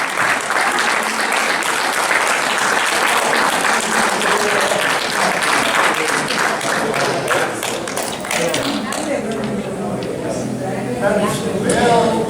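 An audience at a restaurant concert applauds a solo singer, with dense close clapping that thins out toward the end as a voice begins speaking.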